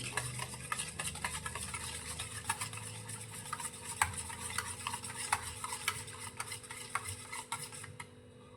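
A spoon stirs and scrapes spices with turmeric around a bowl, giving repeated light clinks and taps at an uneven rhythm, close by with no talking.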